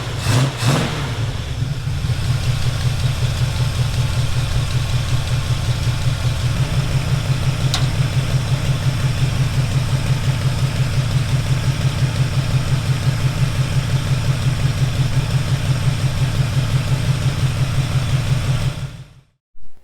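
A 1970 Chevelle with a freshly installed transmission cranks, catches and settles into a loud, steady, rumbling idle close by, holding an even throb for most of the clip before cutting off at the end.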